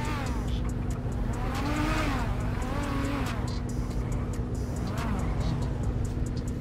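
A car engine in GTA 5 roleplay, likely a Nissan, runs steadily with rising and falling revs and brief tire squeals, close and continuous, under someone talking.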